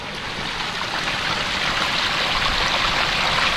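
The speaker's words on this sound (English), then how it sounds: "So this is the last drop that's going into the pond." Water cascades steadily down the last drop of a garden pond waterfall built over driftwood, a loud, close, continuous rushing splash with no voices.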